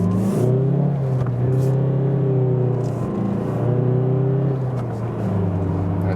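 A 2017 Mazda CX-3 accelerates from a standstill, its engine note holding a steady loud drone with rising harmonics that dip briefly around gear changes, continuous throughout with no talking.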